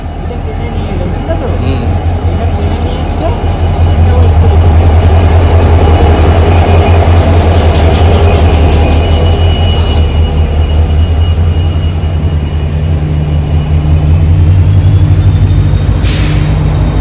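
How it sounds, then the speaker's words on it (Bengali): A passenger train on the journey to Aizawl in Mizoram roars loudly with a steady, heavy rumble and brake hiss, and long sustained horn tones ring out over the din. "হর্ন মেরে মেরে আমাদের ট্রেন চলে এলো"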